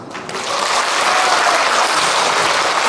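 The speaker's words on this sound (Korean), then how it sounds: "리듬 박수 한번 주세요" A concert crowd claps at a seaside show in Sokcho, South Korea. The clapping is dense and loud, swelling quickly and holding steady with no voices over it.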